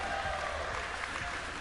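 A crowd at a Fortnite event cheers and applauds, a steady dense wash of clapping and voices that is fairly faint and distant throughout.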